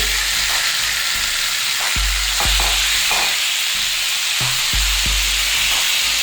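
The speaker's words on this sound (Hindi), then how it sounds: "इसको हम लाइट सा इस तरह से फ्राई करेंगे, बहुत ज़्यादा पकाएंगे नहीं" Spiced boiled baby potatoes fry lightly in a hot pan, a loud close sizzle with repeated scraping stir strokes and low knocks against the pan, no one talking.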